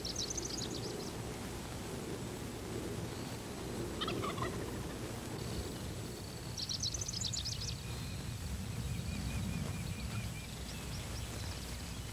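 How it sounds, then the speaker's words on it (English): Wild turkey gobblers gobble in spring woods about 100 yards away, several rattling bursts rising over steady outdoor background noise, moderately distant and clear, with no talking. "2 gobblers close in to about 100 yards"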